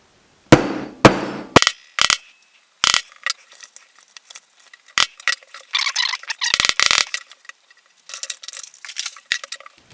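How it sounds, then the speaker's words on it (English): A mallet knocks on a handmade DIY packaging box: a string of sharp, irregular taps and clacks, some in quick pairs, separated by short silences. "Then I use my mallet."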